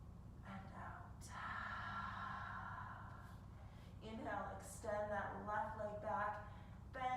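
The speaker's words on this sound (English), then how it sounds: "Deep breath in and out." Slow deep breaths in and out during a gentle yoga hip stretch and flow session, a soft drawn-out inhale followed by a longer breathy exhale, close and quiet over faint background sound.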